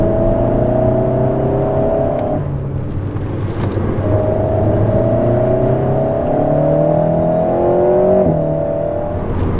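Alpine cars rumble past in a parade convoy on a race track, several engines droning together near and loud, their pitch steady then rising and dipping as the drivers shift and accelerate.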